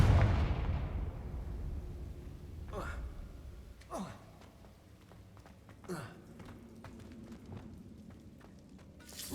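Confringo fire spell blasts in the Hogwarts Legacy video game: a heavy rumbling burst at the start fades out, followed by several whooshing impacts with falling tails, loud and close, amid quieter game ambience.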